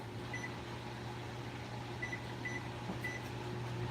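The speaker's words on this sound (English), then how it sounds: "I'm using a microwave." A microwave oven runs with a steady low hum and faint mechanical drone, quiet and continuous throughout, with small high ticks now and then.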